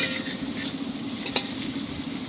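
Potatoes fry in a pan seasoned with salt and turmeric, giving a steady, even sizzle with a couple of brief clinks partway through and no voices.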